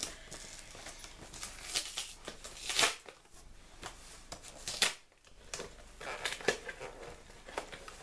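A taped parcel holding the collector's edition of the board game La Dernière Terre is unwrapped up close, giving quiet, irregular crinkling, rustling and tearing bursts with short pauses between them.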